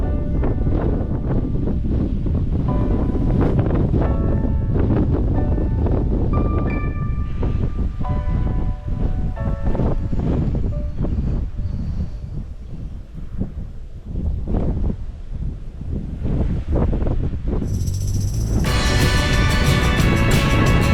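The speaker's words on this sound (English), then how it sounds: "Where was this wind when I was going the other way? Oh yeah, it was blowing in my face then too." Strong wind buffets a cyclist riding a rail trail in Nebraska, a loud continuous roar that fills the whole stretch with no talking.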